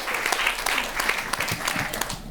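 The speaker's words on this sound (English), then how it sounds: "Give her a round of applause" An audience claps for an invited chef at a nutrition event, dense steady applause filling the whole short stretch with no voices on top.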